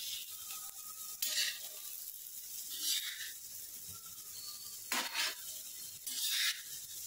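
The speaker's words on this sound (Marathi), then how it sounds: "हे असं मस्तपैकी सगळं परतवून द्यायचं" Coriander and spices sautéing in hot oil for a dry cowpea vegetable dish, a steady close sizzle with a few louder bursts of spatula stirring scraping the pan, no talking.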